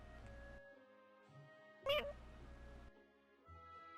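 A cat meows once in the game Asdivine Hearts, a short, bright, rising call in the middle, standing over steady background music.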